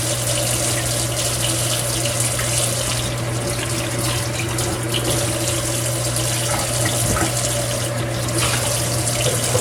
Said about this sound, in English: we got some peppers out here. Should probably wash them.